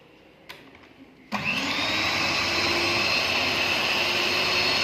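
Electric mixer beating sponge cake batter: after a couple of brief knocks, the motor kicks on and holds a loud, steady whirring drone close by, with no talking.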